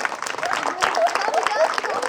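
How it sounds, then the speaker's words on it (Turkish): Children at a newly formed children's council in Efes Selçuk clap for themselves, a busy patter of many small hands kept up steadily, with voices mixed in. "Bence kendinizi alkışlayın."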